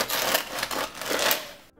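A serrated knife saws through a crusty French baguette, producing a crackly, crunchy rasp of breaking crust that swells and eases over a couple of strokes before stopping abruptly.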